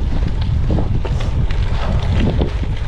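Loud, constant wind buffets the microphone during a long gravel bike race, a roaring low gust that barely lets up across the short stretch.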